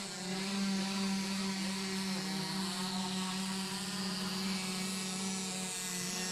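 A racing boat engine at a USTS-NBRA boat race in Jacksonville, Illinois, the orange Y200 working to break over the top and plane out, a steady loud droning roar with strong low harmonics holding throughout, no talk.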